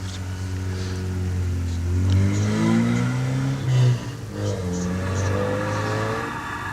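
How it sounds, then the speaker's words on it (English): A BMW Cooper S at a hillclimb accelerates at mid distance, its engine note rising through a couple of gear changes over a steady background rumble. "Heather Parker in the BMW Cooper S."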